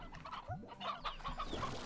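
Several chickens cluck in a farm area within the video game Slime Rancher, a close, steady chorus of short, overlapping clucks and squawks with no talking.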